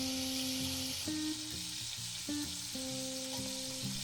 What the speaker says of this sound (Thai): ค่อยๆ จีเนื้อให้สุกทุกๆ ด้านนะคะ ไม่ใช้ไฟแรงไป